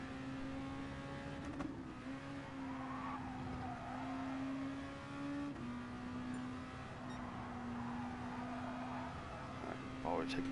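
A race car driven hard at speed, its engine holding a steady high drone with shifts in pitch and brief tire noise, loud and continuous throughout.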